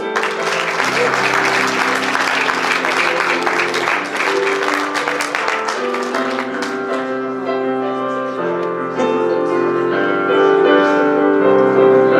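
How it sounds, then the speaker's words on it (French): At a school graduation gown and album ceremony, an audience applauds a graduate, a crackling burst of clapping over steady music that thins out halfway, leaving the music to carry on alone. "Applaudissons chaleureusement Justin Dumais"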